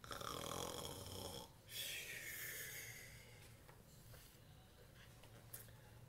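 A person imitates the snoring of a sleeping bear, producing two long, breathy snores up close, the second fading into quieter background noise.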